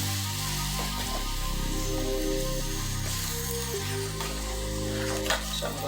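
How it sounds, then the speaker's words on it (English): Coconut milk sauce for shrimp fettuccine bubbling steadily in a pan, a continuous close sizzle with soft stirring scrapes and no talking. "So I'm going to let it boil for a little"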